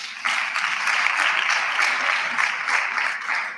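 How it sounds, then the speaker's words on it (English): An audience at a national student council induction event gives a round of applause for ministry officials, a steady, moderately loud burst of many hands clapping that starts abruptly and holds until the end. "can we give them a round of applause?"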